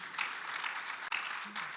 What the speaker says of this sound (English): Another round of applause to all our 4 panelists.